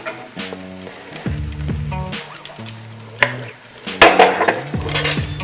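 A metal spoon scrapes and clinks against a pan while sweet kheer filling is spread onto thin Bengali patishapta crepes, a series of close, ringing metallic scrapes and taps in an uneven rhythm.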